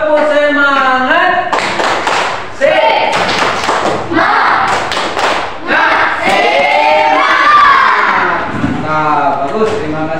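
Children in a classroom clap together in a quick rhythmic pattern, mixed with group voices chanting along, loud and close, with short pauses between clapping bursts.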